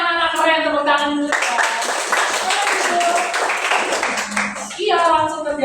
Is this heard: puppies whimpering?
no